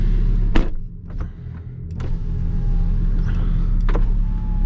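Power windows whirring down inside a modded Audi R8 V10 sitting at idle, several short motor bursts over a steady low engine rumble.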